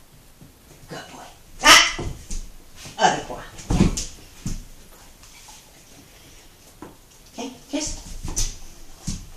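A puppy in training gives sharp yips, barks and soft whimpers close by, mixed in with a person talking to it.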